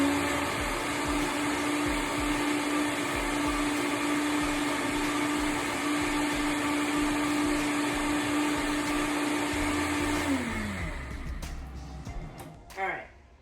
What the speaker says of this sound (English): I'm just gonna blend it for a few more seconds